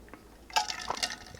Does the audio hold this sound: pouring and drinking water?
yes